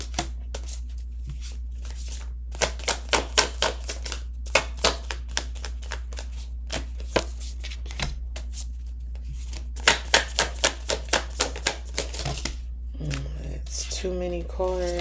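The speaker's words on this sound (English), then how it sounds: "I'm going to pull 10 cards from the tarot." Tarot cards being shuffled and pulled: bursts of crisp riffling and snapping card clicks in irregular clusters, close and fairly loud, with a voice speaking near the end.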